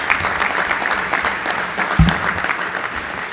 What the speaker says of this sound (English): Paul Lust deserves a round of applause there